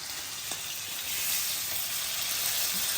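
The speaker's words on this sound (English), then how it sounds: "So what we're doing now is we're just searing the meat" A steak sears in a hot pan, giving a steady, close sizzle and hiss across the whole stretch that swells slightly midway, with no talking over it.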